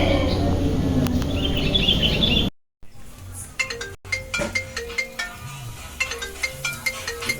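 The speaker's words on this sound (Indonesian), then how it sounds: "Sayang ada telepon." A phone ringtone for an incoming call chirps in short repeated bird-like tones, fairly clear after a brief silence, following earlier talk and background noise.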